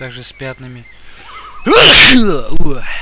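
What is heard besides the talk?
sneeze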